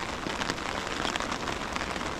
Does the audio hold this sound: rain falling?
yes